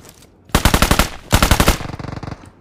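Two loud bursts of rapid automatic gunfire from a new gun in PUBG Mobile on the Livik map, the second trailing into a softer string of shots, with no talk over it.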